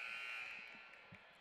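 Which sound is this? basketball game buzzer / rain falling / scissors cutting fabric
basketball game buzzer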